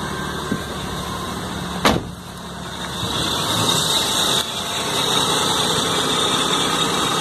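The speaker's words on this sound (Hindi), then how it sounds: "अब आपकी कार स्टार्ट हो चुकी है।" Maruti 800 car engine catching just after starting, a short transient giving way to a steady close idle hum with light vibration, no talk over it.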